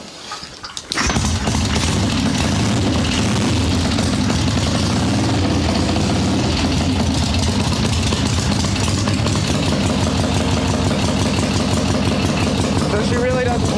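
A swap meet chopper motorcycle engine catches and runs right after a short start attempt, settling into a loud, steady, close rumble that continues throughout.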